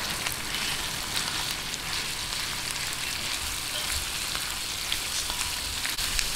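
Ground pork giniling frying in a pan with softened onions for gising-gising, producing a continuous close-up sizzle and crackle with faint sputtering pops and no voices.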